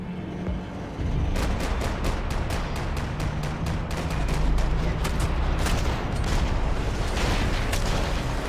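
Gunfire in the video game Max Payne 3: after a quiet second, a long close burst of rapid repeated shots rattles on, dense and loud, with heavy booming underneath.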